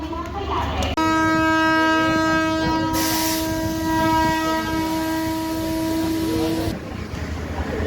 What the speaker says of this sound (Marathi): आपली सांगली डेमो एक्सप्रेस निघालेली आहे लातूर रोड रेल्वे स्टेशनवरून